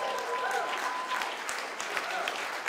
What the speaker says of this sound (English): And they do deserve applause for that.